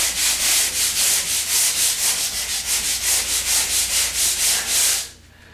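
Hand sanding a drywall quickset patch, rapid even back-and-forth rasping strokes repeating steadily and close, stopping abruptly at the end, with no voices.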